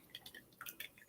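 Jamaican jerk sauce pours onto fish for grilling, heard as faint, quick wet drips and small splashes in an irregular patter over about a second.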